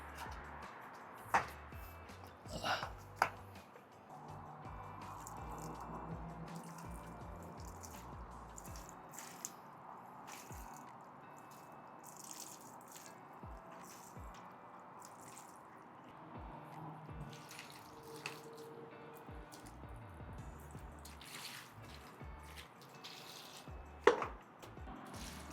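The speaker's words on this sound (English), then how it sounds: "So now I need to water it." Water poured onto freshly planted soil in a patio pot makes soft, quiet trickles and drips, with a few squishy splashes and light handling knocks over a long, low-level stretch.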